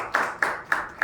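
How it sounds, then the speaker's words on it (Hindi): A small group at a yoga class claps in four quick, even bursts, close and brief with no talking. "जोरदार तालियां।"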